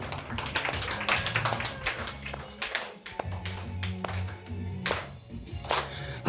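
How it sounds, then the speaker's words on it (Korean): A small church congregation claps during a Korean Sunday service, with close, distinct hand claps that fall in uneven bursts, pause briefly midway, then resume, over a faint low background hum. "박수."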